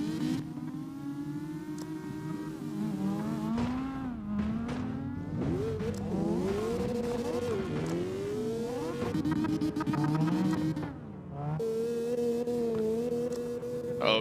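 A Miata drifting in the SLIDESTYLE racing video game: a continuous engine drone that rises and falls in pitch as the throttle is worked, with brief dips between revs and no talk.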